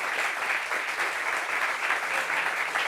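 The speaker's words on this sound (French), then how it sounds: "applaudissements pour Malika Ouattara" Sustained audience applause fills the room as a female guest is welcomed on stage at a French show, dense, steady clapping throughout with no voices on top.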